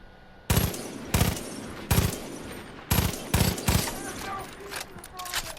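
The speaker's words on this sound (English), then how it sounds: "What I'm doing is I'm firing piercing ammo." Piercing ammo fired at a building in Far Cry 5 comes as sharp, loud gunshot bursts in quick clusters, with a few fainter shots and clinks trailing after.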